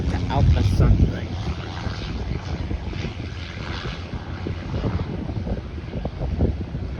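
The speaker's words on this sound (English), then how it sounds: "Got this FedEx Feeder coming in from Key West. A Cessna 208B Cargo Master." A FedEx Feeder Cessna 208B Cargo Master turboprop coming in to land at Fort Lauderdale runway 10L from Key West, a steady propeller drone under heavy wind buffeting on the microphone, with a person talking over it.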